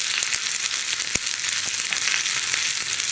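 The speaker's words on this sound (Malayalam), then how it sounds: "ഇനി വറ്റൽമുളകും കറിവേപ്പിലയും ഉള്ളിയും എല്ലാം ചേർന്നൊന്ന് കുക്കായി വരണം." Dried red chillies, curry leaves and onion fry in oil for a puli inji ginger curry, giving a loud, continuous sizzle broken by a few sharp crackles.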